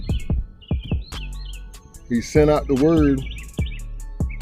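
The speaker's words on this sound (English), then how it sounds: "we hear the birds chirping" Birds chirp and tweet in short bright calls outdoors in the morning, scattered through the clip beneath a voice talking.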